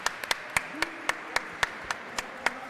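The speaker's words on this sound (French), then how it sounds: "J'applaudis." Spectators applaud at a Cesta Punta final in Berriatua-Markina, marked by steady rhythmic claps about every quarter second over a wash of crowd noise, with some voices in the background.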